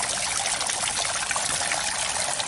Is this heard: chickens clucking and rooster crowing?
no